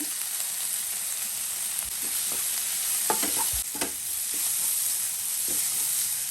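Tomato and turmeric frying in a pan for okra sagu, a steady close sizzle with scattered stirring scrapes and clicks of a utensil against the pan.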